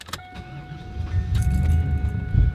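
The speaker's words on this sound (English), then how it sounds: "Starts right up, and being an American car, it's got killer heat for the winter." A Pontiac Firebird, an American car, starts up after a jingle of keys, its engine catching and settling into a low, rumbling idle close by, with a faint steady whine above it.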